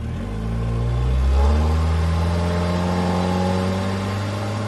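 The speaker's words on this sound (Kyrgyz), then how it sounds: "Автомобилдерден" A car engine runs close by and revs briefly, its droning tone rising and then settling into a steady hum. No voices can be heard.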